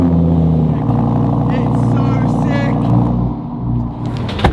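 A car with a modified exhaust, an extra insert fitted inside the pipe, idles loudly and steadily up close, its deep burbling rumble running continuously before easing slightly near the end.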